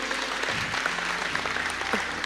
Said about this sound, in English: go ahead and clap, it's all right